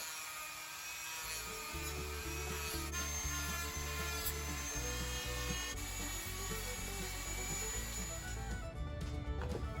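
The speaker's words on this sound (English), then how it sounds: "So, when in doubt, sand it out." A pine wood fishing lure is sanded by hand in steady, even rubbing strokes, a continuous faint scratchy rasp heard close with no talking.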